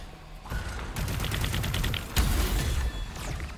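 A blue gun in the Arcadegeddon video game fires a rapid burst of automatic shots, then pauses and fires a second loud burst, close and sharp.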